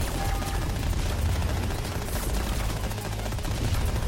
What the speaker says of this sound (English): First, take care of the blaze turrets